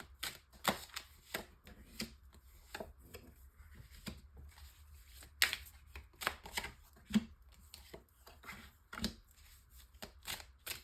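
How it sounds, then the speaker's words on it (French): Tarot oracle cards are handled and set down one after another on a table, giving a quiet string of soft, close slaps and shuffling rustles at an uneven rhythm, with no voice. "tirage en 9 cartes avec l'oracle d'Annabella."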